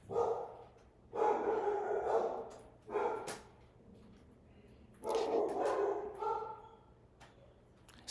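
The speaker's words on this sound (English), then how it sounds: "See how I'm not like freaking out that my dogs are barking because there's someone at the door" Several dogs bark at someone at the door in a home, loud close bursts of barking in three clusters separated by quieter pauses, with no talking over them.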